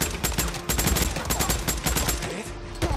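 Loud gunfire rings out in Days Gone as zombies are taken down with headshots, a rapid close burst of repeated shots running almost continuously throughout.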